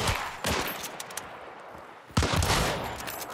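Gunfire in the game Hunt: Showdown: two loud, dense bursts of shots with noisy reverberation between them, close and harsh.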